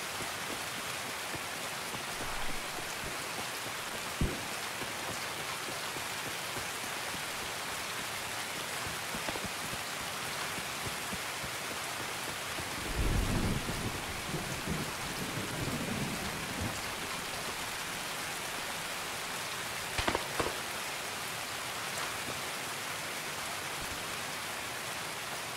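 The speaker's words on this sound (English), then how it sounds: "It is very loud with this rain." Heavy rain in the video game Escape from Tarkov, a dense constant hiss that fills the whole stretch, broken by a low rumble of thunder midway and a few sharp knocks, with no voices.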